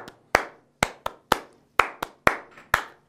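Hand claps beat out a rhythm in a guitar teacher's demo music class, about ten sharp, close claps in a steady but uneven pattern with short pauses between them.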